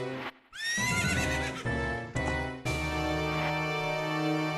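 Phantom Ganon's horse in The Legend of Zelda: Ocarina of Time lets out loud, shrill whinnies, several neighs in quick succession, close and clear, with a brief silent gap near the start.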